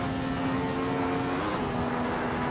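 Ferrari 312T racing engine in the Assetto Corsa racing game at Monza, a steady loud mid-pitched drone holding a constant tone throughout with no audible speech.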